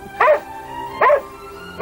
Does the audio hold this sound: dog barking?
yes